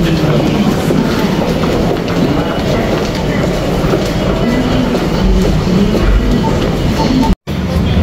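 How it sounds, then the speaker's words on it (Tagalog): Train bound for Hakone, Japan: a loud, steady rumble of rolling wheels with rhythmic clatter that carries on throughout, cut by one brief dropout near the end. "Sasakay na kami ng train pa Hakone mga kuracha."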